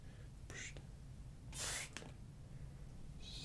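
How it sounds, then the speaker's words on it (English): Several soft, close hissing spritzes from a spray bottle, a short pair then a longer burst, with quiet whispering between. "It's something really pleasing and refreshing about this particular spray."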